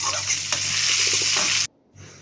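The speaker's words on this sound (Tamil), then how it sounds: "எல்லாம் சேர்ந்து நல்லா பொரிஞ்சு வந்ததும்" Spices, chopped ginger and garlic sizzle and crackle steadily in hot oil, loud and close, then the sizzling cuts off abruptly and returns faintly.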